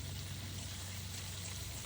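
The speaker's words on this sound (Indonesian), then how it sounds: "Uji coba penyiraman bibit durian semi otomatis. Jadi satu kali buka main keran udah bisa" Tap water runs steadily through a semi-automatic watering system for durian seedlings in a Sumedang, West Java orchard, a continuous loud rushing stream with a low hum, no talk.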